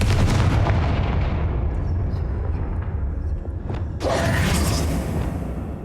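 A Confringo fire spell cast in the video game Hogwarts Legacy lands as a loud booming blast with a rushing tail, and a second sharp burst follows a few seconds later.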